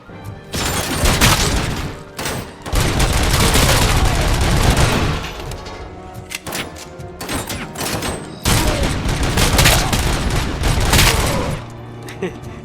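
Loud, dense bursts of rapid gunfire and booming impacts in the video game RoboCop: Rogue City, with a voice speaking over the shooting.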